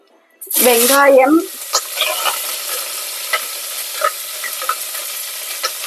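Mustard seeds hit hot oil with a loud hiss and burst of sizzling, then settle into a steady crackle with scattered pops.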